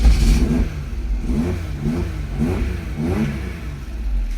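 A three-cylinder car engine revs in repeated rises and falls, close and loud, with a steady rumble underneath and no voices.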